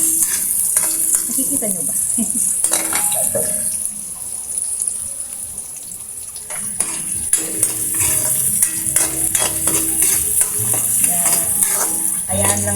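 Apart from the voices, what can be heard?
sautéing ingredients in a pan, stirring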